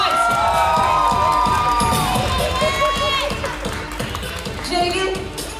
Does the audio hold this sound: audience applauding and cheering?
yes